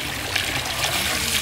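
Water pours steadily over chicken meat being washed for a large iftar meal, a continuous hissing splash up close with no voices.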